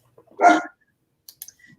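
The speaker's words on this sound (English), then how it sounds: "and the dog agrees." A dog gives one short, loud bark close by indoors, followed by a few faint clicks.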